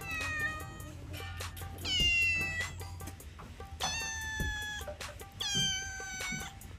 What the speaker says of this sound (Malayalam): നമ്മളെ ഹിബന്റെ പൂച്ചവിടെ നല്ല കരച്ചിലായിട്ടോ.